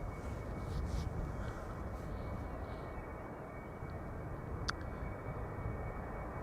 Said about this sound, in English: Where Iberia Express is now taking to the sky.